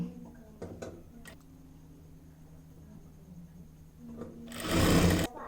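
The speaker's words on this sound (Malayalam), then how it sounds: "ഞാനിപ്പോൾ ഫുള്ളായിട്ട് നെക്ക് ഇതുപോലെ സ്റ്റിച്ച് ചെയ്തെടുത്തു" A sewing machine stitches the neckline of a dress, running in short bursts with a loud, dense whir near the end. No talk.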